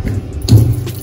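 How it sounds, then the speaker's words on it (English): Tap water running steadily from a kitchen faucet while bananas are peeled under the stream for banana porridge, a continuous close splashing wash lasting about a second. "you can just peel them under the pipe, under the running water"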